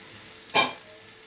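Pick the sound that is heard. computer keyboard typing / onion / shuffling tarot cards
onion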